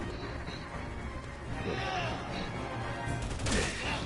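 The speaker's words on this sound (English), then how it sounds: "Shotgun." Shotgun blasts and combat noise in the Resident Evil 6 video game, fairly faint and crowded, with a sharper burst near the end and no voices.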